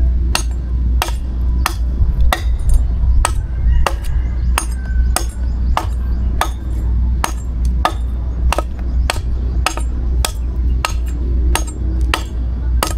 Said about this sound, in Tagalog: Pag itakin mo kasi medyo madali kasi di katulad ng lagari.